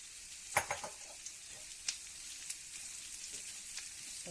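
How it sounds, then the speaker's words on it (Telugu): Onions fry in a pan and are stirred until browning, for a bottle gourd curry: a steady, soft sizzle with a few light scrapes and clicks from the stirring, close and even throughout. "ఆనియన్ మంచిగా బ్రౌన్ కలర్ వచ్చే వరకు ఇలా కలియపెడుతూ ఉందాము"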